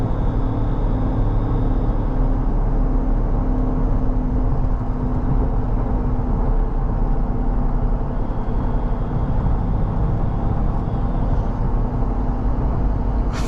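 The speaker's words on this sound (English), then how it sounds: "Quite a lot of road noise with these tires." Tire roar fills the cabin of a 2020 Toyota Tacoma 4x4 pickup while driving, a loud, steady low rumble with a constant hum that never lets up.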